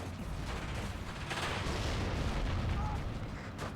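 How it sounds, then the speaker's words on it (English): Dense, rumbling gunfire and artillery-like booms roll continuously through a Steel Division II battle, a busy wash of distant shots and blasts with no clear pauses. "Now he's shooting my freshly arrived recruit."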